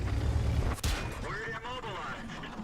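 A tank shell smacks into the track of an IS heavy tank in World of Tanks, a loud heavy impact thump near the start followed by a brief crack, then rumbling engine and battle noise under a voice.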